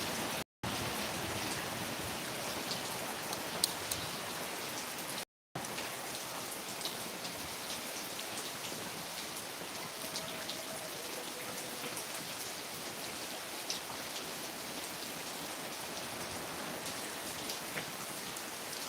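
Rain falls in a soft, even hiss, a steady wash of drops pattering on surfaces with faint scattered ticks, continuous and moderately distant apart from two brief dropouts.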